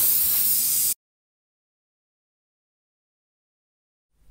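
Aerosol Dullcote matte varnish sprays onto painted zombie miniatures in a loud, steady hiss that cuts off abruptly after about a second, followed by silence.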